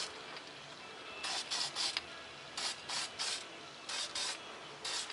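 Short hissing bursts from a spray can painting a small model F-117 stealth fighter come in quick clusters, several sprays in a row with brief gaps between, close and fairly soft.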